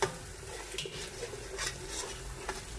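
Spice masala for aloo gobi fries in a pan, a soft continuous sizzle with scraping stir strokes and light clinks of a utensil against the pan, near and fairly quiet.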